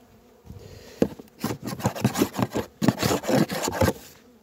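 A tool scrapes across a beehive at close range in a run of rough, rasping strokes. Bees buzz close by.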